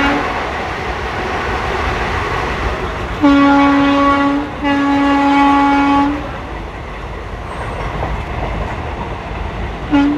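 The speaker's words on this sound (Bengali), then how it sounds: "তো দেখো বন্ধুরা, ট্রেন এখন বাইরে 110-এ চলছে" The Shalimar LTT Kurla Express runs at speed at night, a loud steady rumble of wheels and carriages with a long two-part horn blast in the middle and another brief toot at the end, with no talking.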